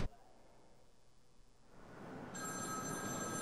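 A telephone rings inside a Batman: Arkham City game level, a steady electronic ring that starts partway through and holds loud and continuous over a low ambient game hum, with no talking.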